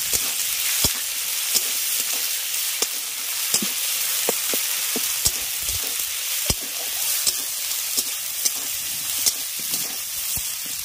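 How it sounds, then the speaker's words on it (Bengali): Poppy seed and cumin paste fries with potatoes and chili powder in a pan, a loud steady hiss and crackle broken by regular sharp clicks of a spatula stirring against the pan. "পোস্তটাকে হালকা করে আলুর সঙ্গে একটু ভেজে নিচ্ছি"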